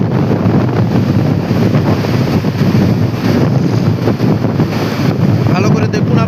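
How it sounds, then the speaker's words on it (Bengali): Wind and waves on Digha estuary sea beach roar continuously and loudly, with heavy wind buffeting the microphone over the rush of muddy surf. "এই মুহূর্তে দীঘা মোহনা সি বিচে আমরা রয়েছি।"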